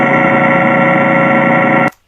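Unhealthy sounding pump runs with a loud, harsh, buzzing tonal drone, rich in steady harmonics, holding constant for nearly two seconds before stopping abruptly.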